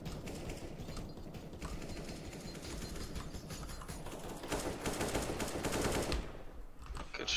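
Rapid automatic gunfire in the shooter CS:GO during a competitive match, dense bursts that crackle on without a pause and swell louder near the end before cutting off.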